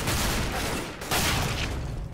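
Dense, continuous gunfire from a round of the video game CS:GO, overlapping shots rattling loudly for the whole stretch with only a brief dip midway.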